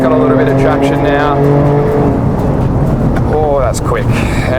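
A 2023 Ford Raptor pulls hard up through its 10-speed automatic, the engine note climbing in pitch with rapid upshifts, loud and close from inside the cabin while someone talks over it.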